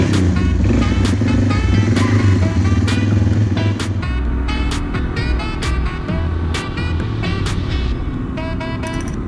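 A Yamaha XT225 motorcycle engine drones close by while riding, a steady low thrum that eases off partway through, with sharp clicks and rattles over the top.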